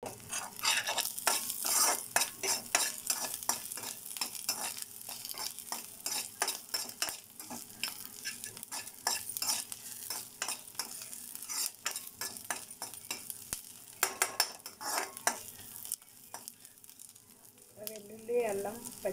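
Garlic, ginger, green chilli and carrot pieces stir-fry in a hot kadai for chicken fried rice, with a continuous loud sizzle broken by frequent scraping and clinking strokes of a metal spatula against the pan.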